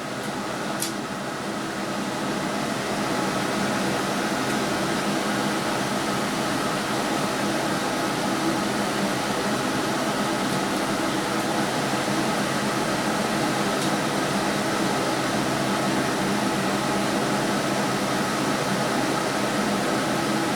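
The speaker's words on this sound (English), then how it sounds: "So you kind of have to listen to the air conditioner." An air conditioner runs steadily on a hot 100-degree day in a model railroad room, a constant broadband hum and hiss that holds at an even level throughout with no other sounds over it.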